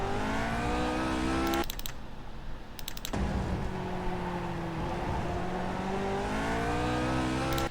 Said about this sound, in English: You can hear how hard the engine's working there.